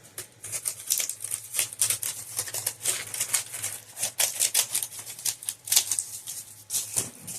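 A large, tough homegrown gourd is being cut in half, giving a dense run of crisp cracking and scraping cuts, close and fairly loud, with no voices.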